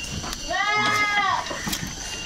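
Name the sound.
goat bleating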